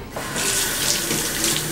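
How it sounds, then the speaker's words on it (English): Cold water runs from a tap into a sink in a kitchen, a steady close splashing rush that starts abruptly and continues alone without talk. "Running in cold water, of course."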